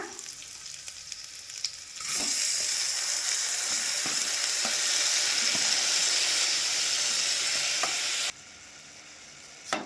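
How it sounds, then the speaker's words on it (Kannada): Washed rice hits frying onions in a pressure cooker pot, setting off a loud, steady sizzle that starts abruptly and holds for several seconds before cutting back to a quieter hiss. "ಇವಾಗ ತೊಳೆದಿಟ್ಟಂತಹ ರೈಸನ್ನು ಸೇರಿಸ್ಕೊಳ್ಳೋಣ"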